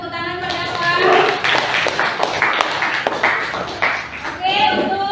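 Classroom applause for a student's opinion during a lesson in an Indonesian school, with close, uneven claps and taps from a small group that stay loud throughout and are mixed with light voices.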